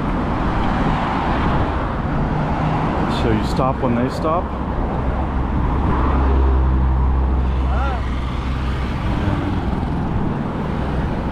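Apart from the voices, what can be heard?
car traffic on a Baghdad road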